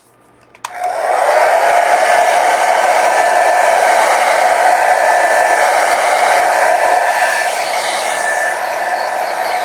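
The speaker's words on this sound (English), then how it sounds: "you can also hasten it using a blow dryer, definitely, which I will do" A blow dryer switches on and runs steadily, a loud continuous whir close by, drying watercolor paint on 300 GSM paper.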